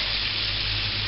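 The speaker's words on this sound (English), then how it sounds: "we're going to put in batches of these noodles so that I need to fry them a bit crispy" Chow mein noodles fry in hot oil in a batch for chicken chow mein, giving a steady, close, loud sizzle that holds evenly throughout with no voices.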